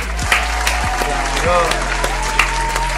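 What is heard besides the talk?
hand clapping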